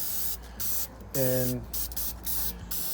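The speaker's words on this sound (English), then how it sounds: "This is the Loctite neutralizing paint that I typically use, so we'll give this a spray." Loctite rust neutralizing spray paint hisses from the can in several bursts onto a salvaged rear luggage rack for a Checker Cab A4, with a voice briefly speaking between sprays.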